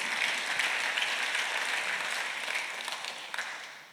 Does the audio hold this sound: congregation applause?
yes